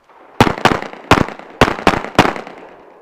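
Six sharp gunshots crack out close and loud in a quick, uneven string during a tactical shooting drill, each with a brief ringing tail and no talk.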